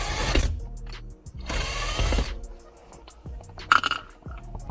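A power driver removes screws from the center console trim of an Infiniti Q50/Q60, with short close whirring bursts separated by clicks and rattling of plastic trim.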